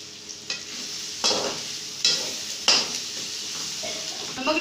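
Chopped tomatoes fry in a pan for kofta curry, a soft continuous sizzle broken by several spoon scrapes and clinks against the pan.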